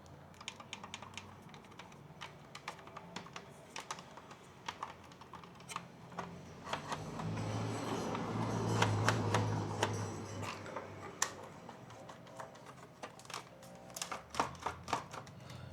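The infotainment radio knobs and buttons in a Lexus GX460 are clicked and turned, giving quiet, irregular, close tactile clicks and ticks over a soft background hum that briefly swells midway.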